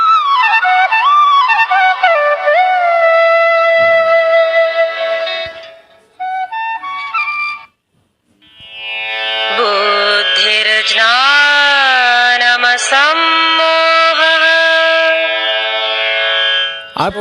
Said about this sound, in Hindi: बंसी का स्पर्श करते ही बंसी की आवाज़ निकालना प्रारंभ।